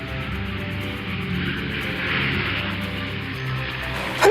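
A toy jet plane arrives with a steady, loud whooshing engine roar that swells slightly in the middle and holds throughout, with no voices over it.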